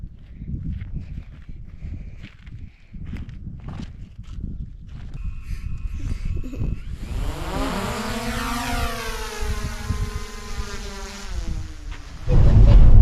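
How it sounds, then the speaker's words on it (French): A quiet, rustling stretch gives way to a drone's high, buzzing whine that rises and holds steady, fairly close, then a louder rumble at the end. "Voici l'assistante de vol de Mathias avec son drone."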